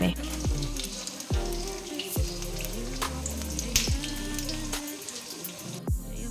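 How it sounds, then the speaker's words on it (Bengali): Batter-coated broccoli deep frying in oil over a medium-low flame, a continuous close bubbling sizzle punctuated by several sharp spatters and utensil taps. "ভালোভাবে ডিপ ফ্রাই করে নিতে হবে মিডিয়াম লো ফ্লেমে"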